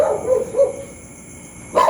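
A dog barks a few times in the distance at 3 AM outdoors, short yelps spaced apart, then quiet before another bark at the end.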